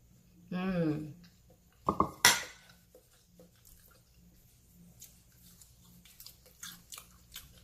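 A voice speaks briefly, then a couple of sharp crunchy bites into air-fried chicken, followed by faint chewing and small clicks.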